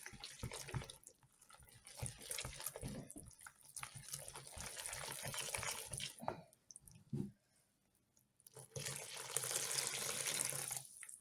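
Water mixed with beet juice poured onto flour, a continuous gushing, splashing pour that pauses briefly and then resumes, close and fairly loud.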